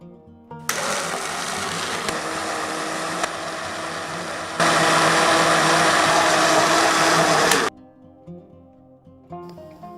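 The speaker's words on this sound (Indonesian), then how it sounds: "lalu blender jagung yang sudah disisir dengan air 1 liter tadi ya" Electric blender whirring as it purees sweet corn kernels stripped from the cob with a liter of water, a loud steady motor roar running about seven seconds and stepping up in pitch and intensity midway before stopping.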